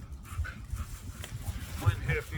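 American Bully dogs whimpering and panting faintly close by, with small yips and snuffles over low rumbling background noise.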